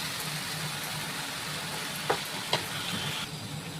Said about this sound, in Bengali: এবার আমি ঝিঙে আর পেঁপেটা দিয়ে দিচ্ছি।